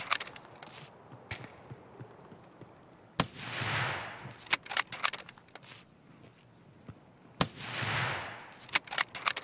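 Gunfire in Escape from Tarkov, sharp cracking shots in scattered bursts, some near and loud, others sounding farther off, with two longer whooshing swells between volleys.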